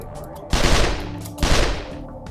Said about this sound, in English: It's just a blowback open bolt SMG.